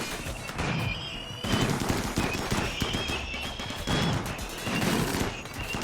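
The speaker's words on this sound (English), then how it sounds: "The Lancers are having shots at the turrets" Rapid bursts of gunfire from Lancers shooting at turrets in the video game Rimworld, loud repeated volleys in uneven clusters with brief pauses between.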